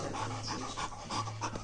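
A puppy pants rapidly and steadily close by, quick breaths repeating without pause for under two seconds.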